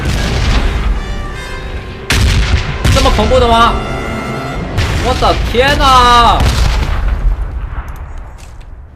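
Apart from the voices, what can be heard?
bombing zone artillery explosions in PUBG video game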